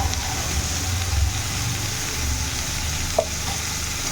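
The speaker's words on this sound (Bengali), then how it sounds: "এটা আবার একটু ভালো করে নাড়িয়ে চাড়িয়ে নিতে হবে" Greens stir-fry in a pan with salt and turmeric, a steady low sizzle and crackle with a spatula scraping around and one sharp clink near the end.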